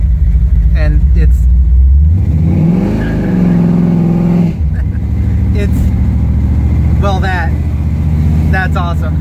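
A 1979 Chevrolet Camaro with a big-block engine revs and accelerates hard, its loud rising roar swelling, dipping and climbing again through gear changes, close and dominant throughout.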